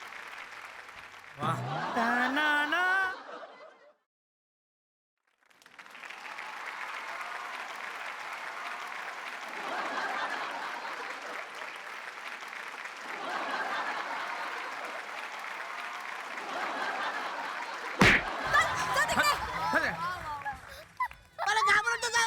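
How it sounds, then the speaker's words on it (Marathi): A studio audience at a Marathi comedy show applauds in a long, steady wash of clapping. Voices talk and laugh over it, and a brief pause breaks it early. "वा, जोरदार टाळ्या"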